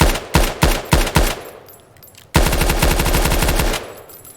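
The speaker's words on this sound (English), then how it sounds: "We're actually using a 417 308 with a transparent gun shield on it." A 417 .308 rifle in a video game at a firing range, fitted with a transparent gun shield, fires several loud single shots, goes quiet for a moment, then lets off a fast sustained string of shots.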